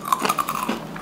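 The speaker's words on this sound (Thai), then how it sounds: "เคี้ยวให้ฟันหักไปเลย คือแบบมันแน่นมากเลยอ่ะ" Crispy beetroot vegetable chips are being crunched and chewed up close, with a quick run of dense, crackling bites repeating through the moment and no talking.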